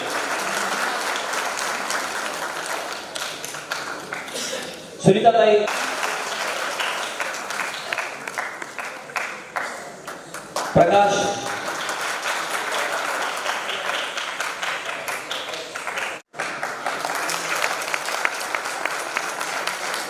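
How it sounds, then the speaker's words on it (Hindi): Sustained applause from the audience at a radio listeners' conference in Buldhana, filling the room for the whole stretch, with a voice calling out names over it. "ताली होनी चाहिए, तालियां नहीं रुकनी चाहिए"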